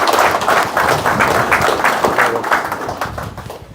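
An audience applauds at a police ceremony, with steady, dense clapping from a crowd that carries on for several seconds before fading slightly.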